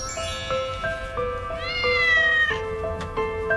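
A three-week-old kitten meows repeatedly and close up, a series of short high-pitched calls in a steady rhythm with one longer rising cry in the middle.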